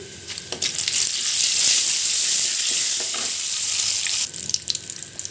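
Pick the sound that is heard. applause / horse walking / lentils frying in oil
lentils frying in oil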